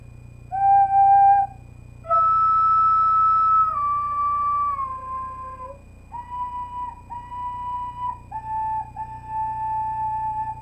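Bamboo flute plays a slow, breathy melody of sustained notes stepping downward, from Francisco Santiago's Pilipinas Kong Mahal, clear and close, with short pauses between phrases and no voices.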